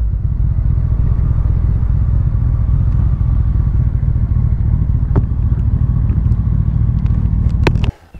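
Honda CBR 1100 XX Blackbird motorcycle engine running loud and steady at close range, a continuous low throbbing drone with a few sharp clicks near the end before it cuts off abruptly.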